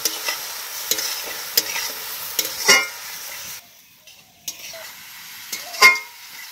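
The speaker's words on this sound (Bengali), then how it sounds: "লঙ্কা গুঁড়ো, ধনে গুঁড়ো, জিরে গুঁড়ো, এই সব মশলা দিয়ে ভালো করে কষে নেব" Small fish being stir-fried with chilli, coriander and cumin powder, with sharp spatula clinks and scrapes against the pan over a soft sizzle, one brief quiet gap midway.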